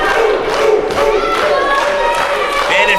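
Wrestling crowd at an indoor independent show roaring and cheering steadily, with rising shouts and chants throughout, loud and close, while a commentator's voice runs underneath.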